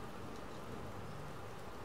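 Steady rain falls in the video game Detroit: Become Human, a soft continuous hiss of drops on surfaces with no other sounds and no talk.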